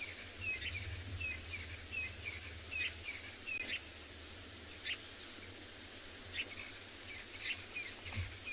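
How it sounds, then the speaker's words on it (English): Birds call loudly at sunset on a safari reserve, with repeated chirps and whistles over a steady hiss of insects and wind, heard outdoors with no talk. "why are these birds so loud at this time of the"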